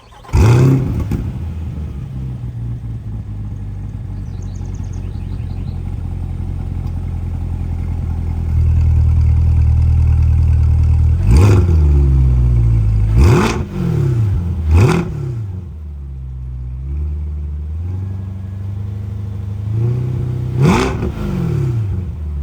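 A Corvette C8.R race car engine starting with a loud crank and catch, settling into a deep rumbling idle, then blipped through several sharp revs that rise and fall close by.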